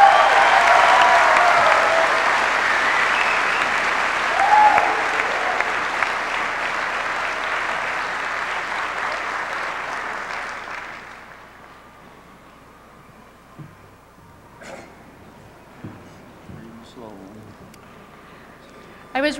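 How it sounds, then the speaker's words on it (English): Graduation audience applauding parents and caregivers at a 2002 ceremony: loud, dense clapping fills the hall for about ten seconds, then fades to quiet with a few scattered sounds and a voice near the end. "join me in applauding the ones who have been there all along."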